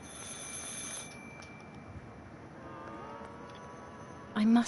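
A telephone rings faintly inside the horror video game Martha Is Dead, a thin steady electronic trill over low ambient hum, ending with a brief louder burst.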